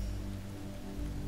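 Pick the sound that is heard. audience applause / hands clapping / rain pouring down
rain pouring down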